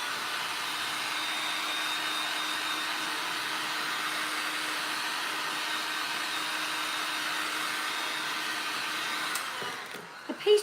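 A heat tool for melting embossing powder blows steadily for about ten seconds, a constant loud whooshing hum, then cuts off with a few clicks and handling knocks at the end.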